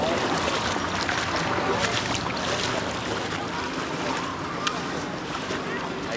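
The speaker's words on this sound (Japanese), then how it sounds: "今回はスピードボートに乗り換えます。" A small speedboat runs across the open sea off the Philippines, giving a steady, loud broadband roar of hull, spray and wind buffeting the microphone, with no clear breaks throughout.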